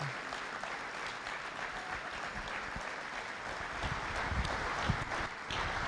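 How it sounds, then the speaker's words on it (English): Audience applause at a Night of Champions event, a continuous dense patter of clapping heard from some distance at moderate, fairly even volume throughout. "So if y'all will give him an incredible round of applause."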